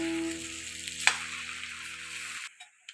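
Food is stirred and mixed in a pan, giving a soft scraping, sizzling texture with a low steady hum underneath, then a quick drop into near silence with a couple of faint clicks at the end.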